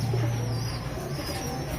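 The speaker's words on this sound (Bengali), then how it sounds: "এই পায়রাগুলো দেখে নাও তোমরা মালবাই পায়রা আছে" Malbai pigeons in a breeding loft giving a steady low coo at close range over a constant hum of background noise.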